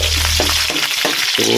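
Onions frying in a pan for pinakbet give a loud, steady close sizzle with bursts of crackle as they're stirred.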